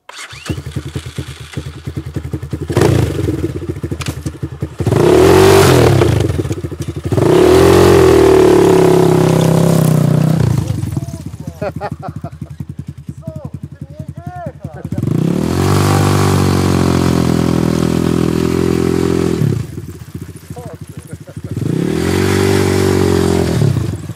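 A one-year-old motorcycle engine idles with a rough clatter, then revs loudly several times in long surges, dropping back to idle between each burst.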